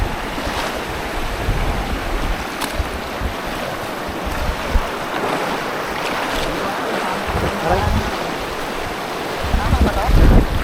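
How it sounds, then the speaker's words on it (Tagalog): Strong rushing river water roars as a dense, steady wash close by in a forest setting, with wind buffeting the microphone and someone speaking briefly. "Ang lakas ng tubig dito."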